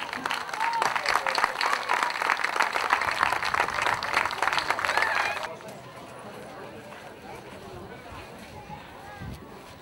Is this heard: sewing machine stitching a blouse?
no